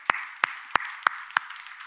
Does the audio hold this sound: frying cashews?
no